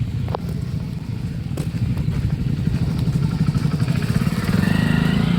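A motorcycle engine idling and revving close by on a waterlogged road, a steady rough putter that grows slightly louder, with a few clunks and knocks.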